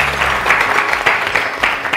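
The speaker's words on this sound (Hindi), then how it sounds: "शर्मा के लिए बहुत सारी तालियां" A studio audience on a live morning TV show claps briskly in a short, dense burst lasting about two seconds.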